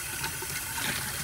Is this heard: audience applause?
no